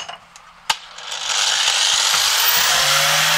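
An angle grinder spins up and cuts into wood while an axe handle is being made. A sharp knock comes first, then a loud sustained whining roar that climbs in pitch and stays steady.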